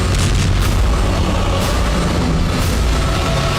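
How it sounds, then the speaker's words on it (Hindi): A loud, sustained blast from a drone strike on an army convoy vehicle driving between two military trucks, a dense roaring boom that fills the whole moment with heavy rumble and no voices. "चंद पलों के बाद निशाना सेट होता है और फिर जोरदार धमाका हुआ"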